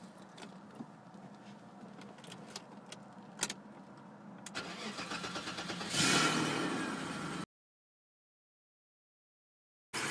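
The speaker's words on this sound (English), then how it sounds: "And now you start the car." A BMW E34 car engine cranks and catches, then runs louder for a moment before the sound cuts off abruptly; a blower fan on high hums underneath from the start, with a few clicks and knocks along the way.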